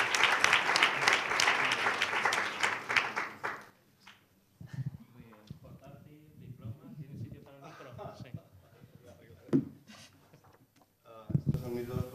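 Audience applause at a start-up award ceremony: a few seconds of dense, loud clapping from a crowd that fades out, followed by someone speaking into a microphone.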